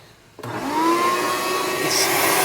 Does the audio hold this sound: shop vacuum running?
yes